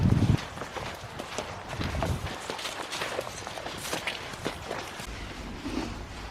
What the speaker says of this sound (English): So the horses come in and are greeted with a big old pile of hay for Charles and then Silvermore in a hay net